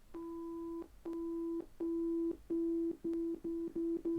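Pulsing electronic tone, the first of four interlocking tones, beeping in steady on-off bursts at a single pitch with a faint overtone, the bursts getting shorter and quicker toward the end.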